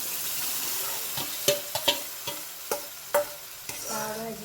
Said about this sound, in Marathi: इकडं आपण ही स्मॅश करून घेतलेली भाजी टाकून घ्यायची